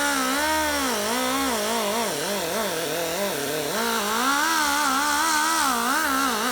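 A high-speed rotary power tool grinds away at a truck throttle body during porting, a loud continuous whine whose pitch wavers up and down as pressure and speed shift, close and alone.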